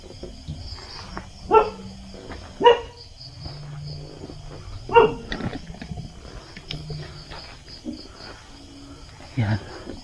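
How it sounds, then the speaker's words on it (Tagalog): A dog barks several times outdoors at night during a ghost-hunting walk, sharp separate barks spaced a second or more apart at moderate distance, with someone speaking and steady insect or ambient hiss underneath. "May aso."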